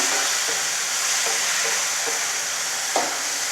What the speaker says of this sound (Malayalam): അതിലേക്ക് ഈ ഉപ്പ് പിടിപ്പിച്ച് വെച്ച കഷ്ണങ്ങൾ ചേർത്ത് കൊടുക്കാം. നന്നായി ഒന്ന് മിക്സ് ചെയ്തെടുക്കാം.